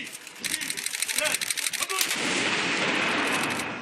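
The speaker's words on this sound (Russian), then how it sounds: "Традиционный полуденный выстрел из пушки Нарышкина" The traditional noon shot of the Naryshkin cannon, fired to start a motorcycle rally, comes as a burst of sharp, crackling blasts that fade into a sustained roaring wash of noise, loud and outdoors.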